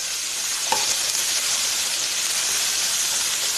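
Brinjal frying in a pan for Kerala-style vindaloo gives a steady, bright sizzle throughout, close and even, with one brief louder crackle early on and no voices.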